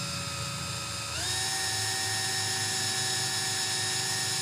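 A small power drill boring a hole through a sublimation blank, a steady high whine that steps up sharply in pitch just over a second in and then holds constant, with no talking.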